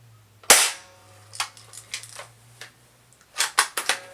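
An airsoft MP40 fires a single sharp crack, followed by a few softer clicks and snaps, then a quick cluster of sharp pops near the end; a low hum runs underneath.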